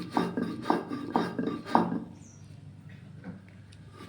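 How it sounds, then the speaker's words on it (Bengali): A spice and salt paste for a Bengali mango dish is ground by hand, with about five rhythmic, close scraping strokes of stone or pestle in the first two seconds, followed by quieter faint rubbing. "এবার সমস্তটাকে আমি খুব ভালো করে বেটে নেব।"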